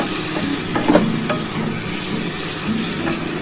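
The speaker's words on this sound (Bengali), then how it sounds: "একটুখানি ভালো করে নাড়াচাড়া করে নেব।" Chicken being stirred and fried in a pan with tomato sauce and soy sauce, capsicum in the mix, a steady close sizzle with scraping spoon strokes throughout and no talking.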